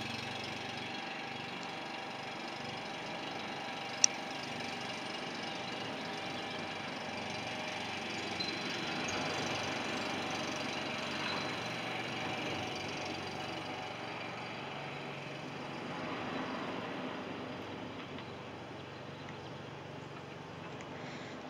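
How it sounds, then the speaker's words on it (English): A small lawn mower engine on a Sherwood Kub drones steadily in the background, its low hum slowly shifting as it drives away, with no talking over it. "Never mind the lawnmower driving off in the background."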